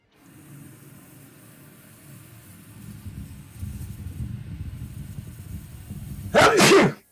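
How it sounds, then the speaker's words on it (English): A single sharp sneeze bursts out loudly near the end, close to the microphone, over a low rumbling background hum from a Star Citizen game session. "Sorry, I just sneezed."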